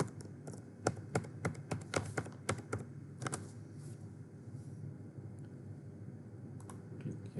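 Typing a username and password on a computer keyboard, a quick burst of crisp close key clicks in uneven rhythm for a few seconds, then a few scattered taps over quiet room hiss.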